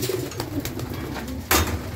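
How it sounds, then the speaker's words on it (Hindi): An old pet pigeon coos softly at close range, a few low throaty calls over faint background noise, with a brief louder rustle partway through. "ਬੜਾ ਪੁਰਾਣਾ ਕਬੂਤਰ ਹੈਗਾ ਆਪਣਾ"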